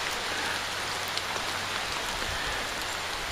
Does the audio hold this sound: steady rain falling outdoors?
yes